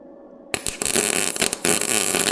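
Welding on the rear quarter panel of a mid-engine Trans Am, beside glue between inner and outer skins: after a quiet hum, a loud, continuous broadband crackle and hiss starts abruptly, with a few brief breaks, close up and with no talk.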